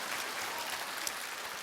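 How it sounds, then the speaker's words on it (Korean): Faint, distant applause from an audience, a soft even patter of many hands clapping without voices. "뭐 박수를 치실 거면 좀 화끈하게."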